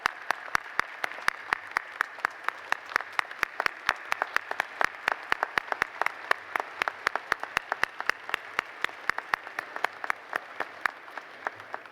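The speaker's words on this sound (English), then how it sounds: "Please stand and give them a round of applause." Applause at a college commencement ceremony: sparse, distinct hand claps from a modest crowd, close and sharp, repeating irregularly and steadily for the whole stretch with no talking over them.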